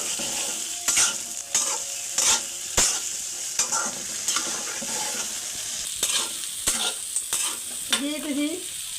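A spoon repeatedly scrapes and stirs olive pickle with vinegar in a hot pan for a sweet, sour and spicy achar, each stroke clattering over a constant close sizzle.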